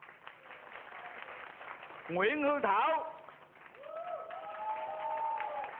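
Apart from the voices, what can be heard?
applause for contestants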